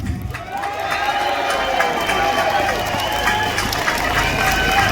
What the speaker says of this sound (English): that round of applause didn't do her justice. I think she can get much louder one than that.